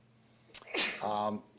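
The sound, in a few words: sneeze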